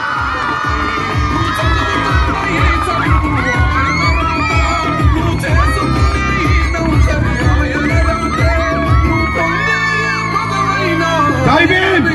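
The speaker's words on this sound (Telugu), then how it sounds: "అందులో క్లాప్స్ కొట్టాల్సిందిగా కోరుతున్నాం" A crowd cheers, shouts and whoops, with clapping, at an employees association's ceremony honouring a district IAS officer. The roar is loud and steady, with children's high voices prominent, and it stays dense throughout.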